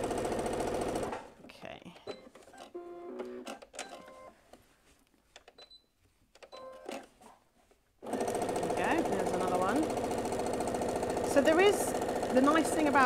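A sewing machine quilts through patterned fabric, running with a steady fast mechanical whir that stops and restarts, and someone talks over part of it.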